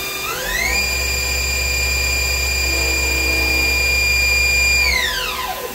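A Ganesh Cyclone 32CS CNC lathe spindle spins up to 4000 RPM, its loud whine rising quickly, holding a steady high tone over a low hum, then winding down.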